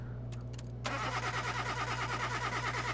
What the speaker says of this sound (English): We're able to at least start the car to see what we have as far as fuel components